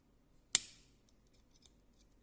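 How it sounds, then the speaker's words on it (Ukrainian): A single sharp, bright click comes from the scissors mechanism of a Victorinox Swiss Army knife, close and crisp, followed by faint small ticks of handling. "так сидіти і клацати, клацати, клацати, тому що звук неймовірний"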